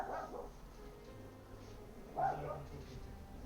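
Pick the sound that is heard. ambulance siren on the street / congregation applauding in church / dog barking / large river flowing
dog barking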